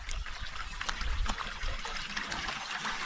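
Water trickles along a wooded creek, a close, steady bubbling wash with small splashes and no voices.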